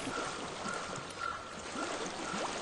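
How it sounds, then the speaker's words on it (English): Flowing stream water in Hellblade: Senua's Sacrifice, a steady close rushing and trickling wash that continues evenly without pause. "I hear water."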